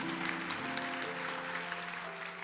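Congregation clapping during a church sermon, a steady dense wash of applause held at even loudness throughout, with no voices over it.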